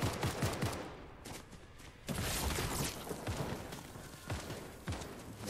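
Fortnite gunfire rings out in repeated sharp cracks and quick bursts, loud and close throughout, with short gaps between volleys.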